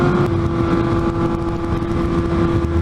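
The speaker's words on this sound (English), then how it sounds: "Jump on your bike and go for a ride." A motocross bike engine drones steadily at close range, a constant buzzing hum with no pauses, heard alone without talk.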